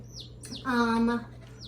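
A newly hatched chicken chick gives a few high, sharp peeps, with a steady low hum underneath and a brief voiced sound in the middle.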